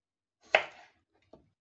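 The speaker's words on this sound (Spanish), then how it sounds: "La cortamos todo lo fina que podáis" A knife chopping carrot and onion finely on a board: one sharp close chop followed by a fainter second cut a moment later, with no talk.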